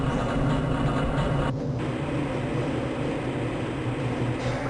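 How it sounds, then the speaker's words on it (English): A steady low rumble of a transit train rolling along the rails in the video game Half-Life: Blue Shift, continuous and fairly loud, with a faint hiss across the top and no voices. "This train is inbound from the Area 8 topside dormitories to the Central Transit Hub in Area 9"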